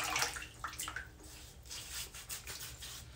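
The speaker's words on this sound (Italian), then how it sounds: "Idratiamo un po' il viso con acqua." Water splashes close by as a face is rinsed at a sink with cleanser, in a wet-shave routine with a safety razor, a few irregular bursts of splashing and dripping over a low background hum.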